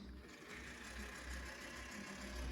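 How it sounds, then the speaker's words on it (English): A vintage Bachmann HO scale model trolley, South Hills lines, runs along its track with a steady, faint electric motor whine and a low continuous hum, quiet and unbroken throughout. "he's got a slightly different whine to his motor, a little different than the other Bachmann product"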